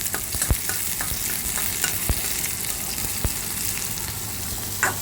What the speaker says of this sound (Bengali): রসুনটা আমি তেলে লাল করে ভেজে নেওয়ার পরে পেঁয়াজ কুচি দিয়ে দিলাম